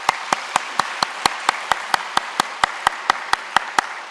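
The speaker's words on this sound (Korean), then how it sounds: "박수 한번 쳐주세요." Rhythmic clapping from a church congregation during a Sunday worship service after a baptism declaration, evenly spaced, sharp claps in a steady unison beat, fairly loud and close, with no talking.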